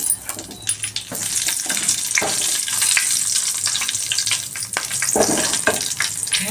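Mustard seeds, cumin and green chillies fry in hot oil with a continuous close sizzle, dotted with sharp pops and crackles and the scrape of stirring.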